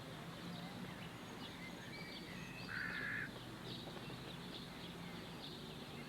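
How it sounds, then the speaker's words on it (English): A crow calls in London, one brief, faint caw rising over a constant wash of city background noise, distant rather than close. "the crow belongs to the same family as the jackdaw and the rook"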